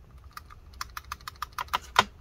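Keys on a MacBook butterfly keyboard being pressed after a key hinge replacement, a quiet run of light, crisp clicks that come faster and louder toward the end.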